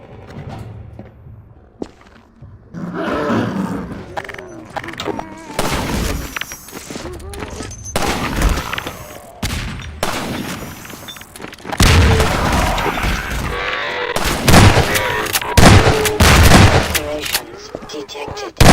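Rifle shots in Half-Life, fired to shoot out a latch: a series of sharp reports, sparse early and then clustering into loud volleys in the latter half, with a voice talking between them.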